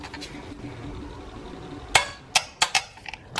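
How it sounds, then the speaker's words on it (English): Torque wrench tightening top motor mount bolts on a 2012-2019 Ford Focus, a handful of sharp metallic clicks and clanks arriving in quick succession after a quiet stretch, close and distinct. "I have a torque wrench set to 59 foot-pound"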